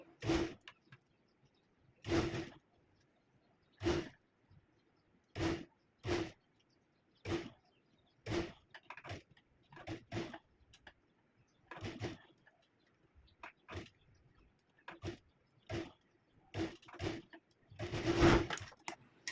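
A sewing machine stitches a folded seam on a kurti in short, loud bursts separated by brief pauses, with about a dozen runs of stitching in steady succession.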